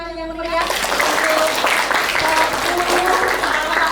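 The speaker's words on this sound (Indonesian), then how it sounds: "Tepuk tangan yang meriah" An audience at a university biology education talk show applauds ten high-achieving students, a lively spread of clapping with voices and cheering mixed in, steady and fairly loud.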